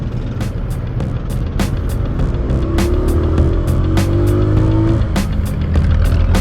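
Steady road traffic rumbles and swishes past while riding a Bristol Cub Pro bicycle, with passing cars and the occasional tire whine continuous throughout, a few sharp clicks over the top.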